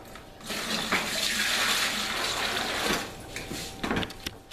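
Water pouring steadily into a homemade laundry soap mixture, a continuous splashing gush with a few sloshing bursts near the end, close by and without talk.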